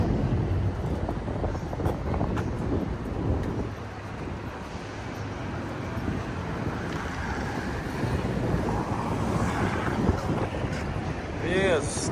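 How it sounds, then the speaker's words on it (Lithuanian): Strong wind buffets the microphone outdoors on a foggy riverside walk, a constant heavy rumbling roar with gusts, and a brief whistling tone near the end. "Vėjas nemažas"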